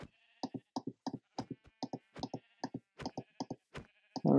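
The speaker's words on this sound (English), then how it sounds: "I'm gonna have to kill this sheep." Sheep in Minecraft bleat repeatedly in quick, evenly spaced short calls, close and clear with no talking over them.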